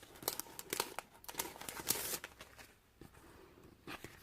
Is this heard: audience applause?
no